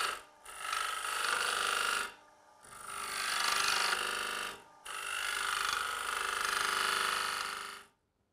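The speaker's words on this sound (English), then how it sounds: "Now with the detail point cutter, we can produce our dovetailed foot to hold onto the jaws of the chuck." Bowl blank spinning on a wood lathe while a detail point carbide cutter shapes a dovetailed foot, a steady close scraping, rasping cut in three sustained passes separated by brief pauses.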